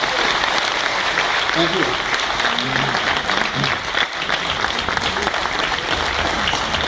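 Audience applause for a speaker at a live talk, a dense, steady clapping that fills the whole stretch at close range, with a voice briefly speaking over it.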